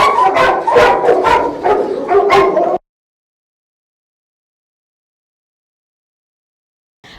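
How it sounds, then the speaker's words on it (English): Excited dogs, likely adoptable animals reacting to visitors, bark and yip in a rapid, loud, overlapping burst for a few seconds before the sound cuts to silence. "Wow, the dogs were really excited for the holidays."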